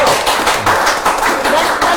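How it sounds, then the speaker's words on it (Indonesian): An audience claps hands in quick, rhythmic bursts on the set of a talk show about Covid-19 vaccination in Palembang, close and fairly loud over a short span. "Tepuk tangan dong"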